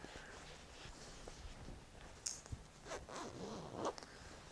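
Zipper on the cover of a memory-foam travel neck pillow is pulled in a few short, close rasping strokes, faint and quiet, with light handling rustle between them.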